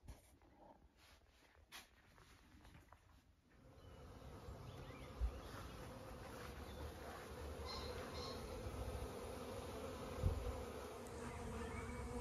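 Honey bees swarm around a newly populated hive on a sunny day in Hampshire, their buzzing rising from faint to a steady, dense drone that fills most of the clip, with a few brief knocks.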